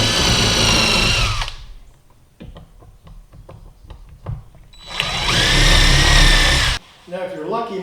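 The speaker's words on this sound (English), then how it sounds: "that holds it while I pre-drill the other holes" A power drill pre-drills holes in wood in two loud, sustained whirring bursts, separated by a quieter gap of small taps and clicks, with the motor starting and cutting off sharply each time.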